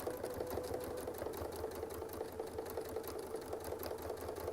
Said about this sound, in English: I'm just going to sew over it.